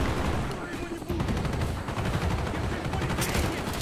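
Rapid gunfire rattles in a Call of Duty Black Ops campaign mission, dense automatic bursts hammering continuously and loudly, with a voice talking over the shooting.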